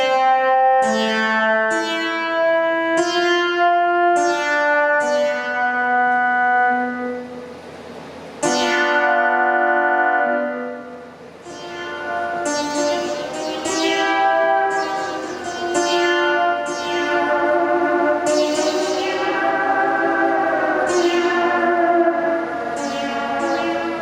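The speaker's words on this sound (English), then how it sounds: "Listen how artificial that reverb sounds." Synthesized tones with an artificial, cheesy reverb effect play as a sequence of sustained, siren-like sliding pitches that swell and ring out in a washy, lingering tail.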